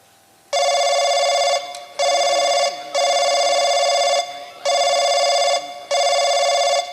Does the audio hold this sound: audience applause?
no